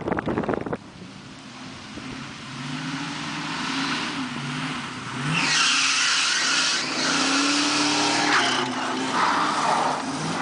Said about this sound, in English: the car sounds like it's going through death throes because of belt slippage